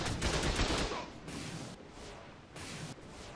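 Automated turrets in ARK open fire in a dense, sustained burst of rapid gunshots, loud and close, then break into shorter volleys of shots with brief gaps between them.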